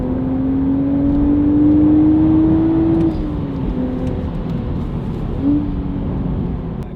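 A BMW Z4 fitted with a Valvetronic Designs exhaust and OEM downpipes revs up in a rising sweep, eases off, then blips once more, the exhaust note steady and fairly loud with no talk.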